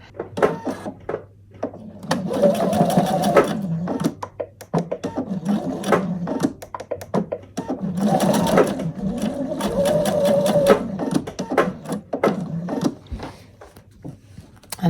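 Sewing machine stitching around three sides of a quilt-as-you-go denim placemat close to the edge, running in two long bursts with brief pauses and clicks between them, near and steady.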